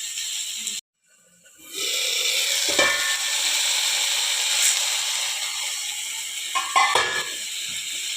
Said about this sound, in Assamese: নিমখ দি অলপ সময় বিলাহীখিনি সিজিবৰ কাৰণে ভাজি থাকিম